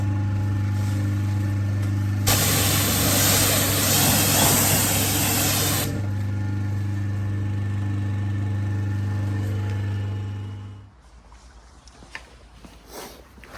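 Diluted hydrochloric acid sprayed as a cleaner, a loud close hiss lasting a few seconds over a steady machine hum that keeps running, then cuts out near the end, leaving faint background noise.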